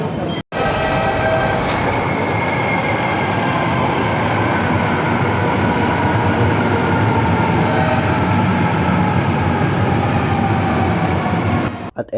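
Steady rumble and hiss of a Manila MRT train in motion fills the whole ride, with continuous wheel and track noise and faint voices now and then.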